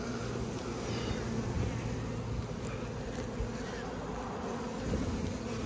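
A dense swarm of bees hums continuously during a large colony removal, a loud, close, steady buzz with no speech.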